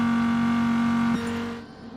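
A McLaren F1 GTR race car engine is heard in a racing video game at Fuji Speedway. It holds a high, steady engine whine, then the pitch drops and the sound fades and cuts off about two-thirds of the way through.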